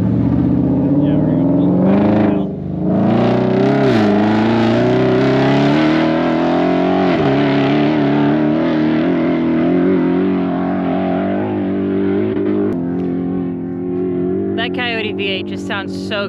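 Ford Bronco DR with a Coyote 5-liter V8 roars at high revs during an off-road test drive, a loud sustained engine note rising and falling through several pulls, with brief dips between them.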